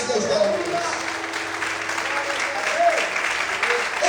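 A church congregation applauds steadily, a dense, even wash of many hands clapping for the whole stretch, with a voice faintly audible beneath it.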